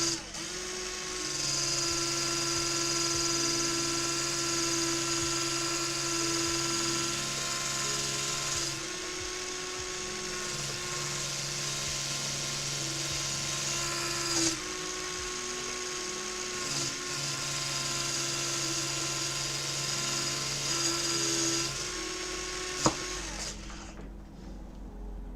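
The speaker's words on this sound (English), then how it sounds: "It's made it a lot cleaner because it's a polisher." A small, powerful electric polisher whirs continuously with a high, steady whine that rises and falls slightly in pitch in repeating stretches, ending with a sharp click and a drop-off.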